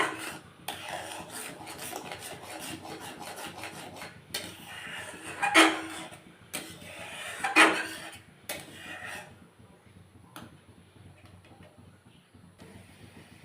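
A utensil scrapes and rasps around a wok while milk cream is stirred down into ghee: close, repeated rubbing strokes, a few sharper scrapes, then quieter stirring toward the end.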